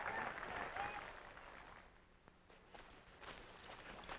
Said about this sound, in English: They're cheering now because of Barrowby won.